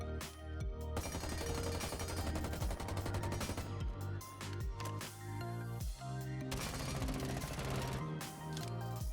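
Video game weapons fire in dense rapid bursts, loud continuous gunfire layered with a music-like background, with no pauses.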